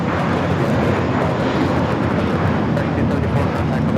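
An American Airlines Airbus A321 jet takes off, a loud, steady broadband engine roar filling the whole stretch without letup, with a voice faintly present underneath.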